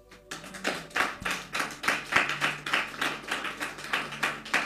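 A church congregation claps in rhythmic unison, a steady rapid run of hand claps filling the room at moderate loudness with no voices over it.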